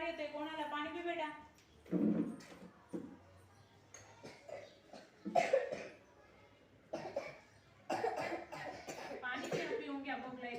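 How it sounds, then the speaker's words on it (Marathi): Children coughing in a school classroom, several separate hacking bursts spaced out among ongoing talk nearby. "खोकला फार येतोय कोणाला"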